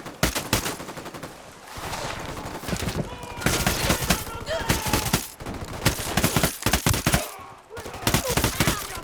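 Rapid bursts of automatic gunfire and single shots in a Ghost Recon Wildlands firefight, loud and near, crackling in dense volleys with brief pauses between, with faint voices at times.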